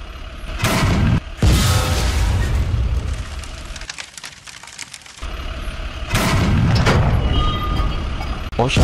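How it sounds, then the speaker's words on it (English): Sound-effect howitzer blasts for a stop-motion plastic army men battle: a few loud, heavy booms, two close together early and another later, with voices talking between them. "Howitzer, be ready to fire."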